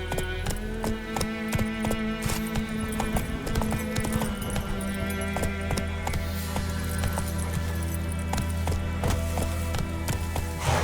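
Roach the horse's hooves clip-clop at a quick, even pace in the Witcher 3 video game, loud and steady over a droning musical score.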